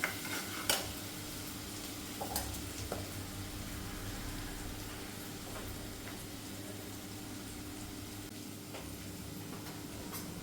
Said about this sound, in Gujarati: ડુંગળીને એકદમ સળવા દઈએ.